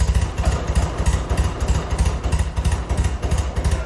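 A BMW R100RS motorcycle's twin-carb engine idles close by, a steady loping low thump with even pulses and light mechanical clatter, running alone without talk.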